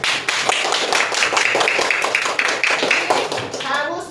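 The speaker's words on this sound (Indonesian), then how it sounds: "Tepuk tangan untuk teman-teman kalian." Schoolchildren in a fifth-grade classroom clap together in steady, dense applause close by, with scattered young voices under the clapping.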